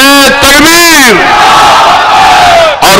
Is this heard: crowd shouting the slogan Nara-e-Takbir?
yes